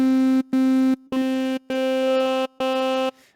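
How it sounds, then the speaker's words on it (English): A synth tone in Arturia Pigments morphing between vowel shapes through a formant filter: a steady pitched buzz played as five separate held notes, each shifting its vocal-like colour, clear and up front without speech. "you can morph between different vowel sounds"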